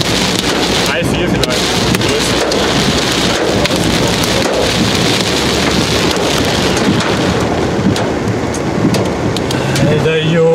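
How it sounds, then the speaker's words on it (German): Loud hail and heavy rain pound a car roof during a severe storm near Eindhoven, Netherlands, a dense continuous roar with sharp individual impacts and wind buffeting close to the microphone. "Erste einzelne Körner knallen aufs Autodach."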